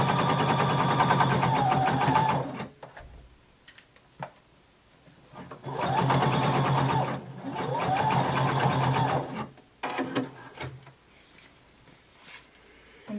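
A sewing machine stitches a shoulder seam on a bodice in two long, steady runs, each a few seconds of fast rattling, with short quiet gaps and a brief burst near the end.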